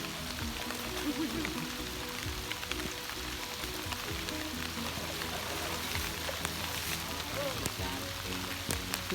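Steady rain falls with a dense hiss and scattered drops pattering on surfaces near elephants; faint voices murmur underneath.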